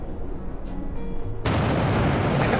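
A sonic boom from a supersonic plane in a flight simulator game: a quiet low rumble gives way to a sudden loud, broad blast of roaring noise that sustains steadily to the end.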